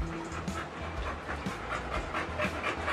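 A male American bully dog pants rapidly and rhythmically close by, a breathy, even huffing against a low background rumble.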